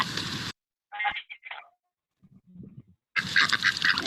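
Duck quacks in short bursts, a couple of calls near the start followed by a softer low quack, set between louder stretches of other sound during a sound-guessing game.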